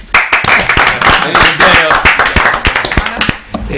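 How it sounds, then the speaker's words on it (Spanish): Studio applause on a football talk show, a fast burst of many hands clapping for a birthday, loud and close, with voices talking over it throughout. "un fuerte aplauso para Gastón que cumplió años"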